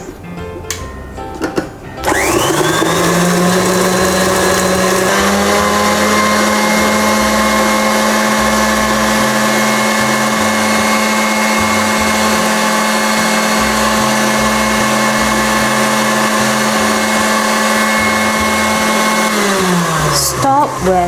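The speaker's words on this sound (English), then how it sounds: "Start beating the butter and the sugar until it is soft." An electric mixer beats butter and sugar for a banana walnut cake, starting with a rising whine, then running as a loud, steady motor hum for about eighteen seconds before winding down.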